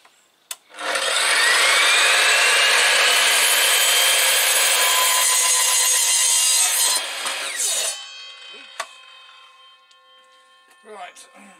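An Evolution power saw cuts a wooden piece for a shed frame, with a loud high whine lasting about seven seconds as the blade bites through. The motor then winds down, followed by a few sharp knocks and handling clatter.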